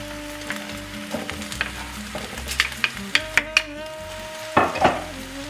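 Mushrooms and vegetables hiss in a hot pan during a stir-fry, with a steady close sizzle broken by irregular clinks and scrapes of a utensil tossing the food, louder toward the end.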